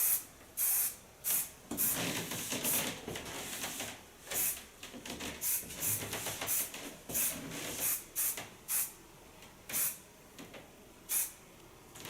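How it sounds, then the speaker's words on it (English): Hairspray comes out of a can in a series of short, sharp hissing bursts, close and fairly loud, some quick and clustered, others spaced a second or so apart. "Take a little bit of hairspray."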